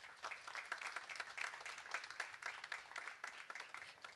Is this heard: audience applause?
yes